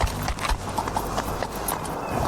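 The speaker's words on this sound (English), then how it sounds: "I feel so bad for that horse." A horse's hooves clip-clop rhythmically in a fast gallop, with a brief whinny mixed in, loud and close, from a TV drama scene, with some faint voice in the background.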